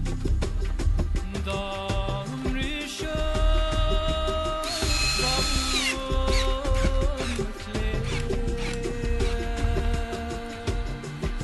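A power drill drives screws into countersunk holes in wood, giving short whirring bursts of motor whine over a steady, busy background, with no talking.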